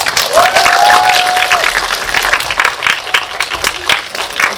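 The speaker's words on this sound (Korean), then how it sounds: "큰 박수 부탁드립니다." Audience applause at a film screening Q&A welcoming the actors and director on stage, a dense, loud wash of clapping that fills the whole stretch, with a faint voice briefly audible near the start.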